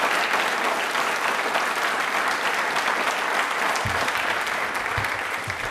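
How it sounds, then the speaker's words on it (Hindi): Loud, sustained applause from a quiz show audience for a contestant's correct answer, a dense wall of clapping that runs steadily throughout without pause. "एक बार जोरदार तालियां हो जाए कपिल जी के लिए"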